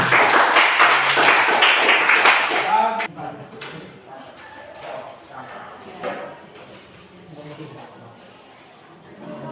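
A classroom audience claps during a group presentation, a dense burst of applause for about three seconds before it cuts off and voices talk more quietly over the room.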